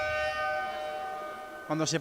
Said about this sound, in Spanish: cuando suena la sirena de la bocina del marcador de Ipurúa y se para el partido